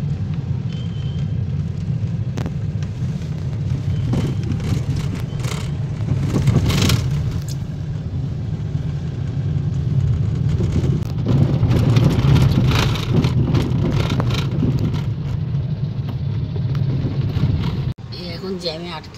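Cars stuck in a traffic jam at a railway gate, their engines idling with a steady low rumble. Road noise and passing-traffic sounds come and go over it. Near the end the sound drops off suddenly.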